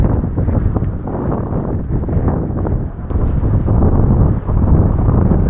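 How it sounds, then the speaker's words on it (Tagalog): Strong wind buffets the microphone in a continuous low roar, loud and rumbling, with no voices, at a fish corral (baklad) by the sea. "Lumakas man. Ang hangin."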